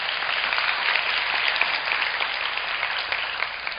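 A forum audience gives a mentor another big round of applause, a dense, even wash of many hands clapping at a steady level for the whole stretch.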